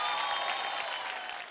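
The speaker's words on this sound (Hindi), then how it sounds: "एक जोरदार ताली ब्रिगेडियर जी के लिए।" A live audience at a Hindi stage comedy show applauds briefly, a steady burst of dense clapping.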